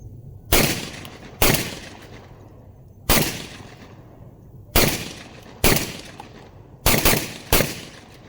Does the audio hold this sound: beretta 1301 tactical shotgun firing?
yes